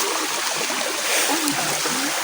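A stream flows steadily with a continuous close rush and gurgle of water, no voices over it.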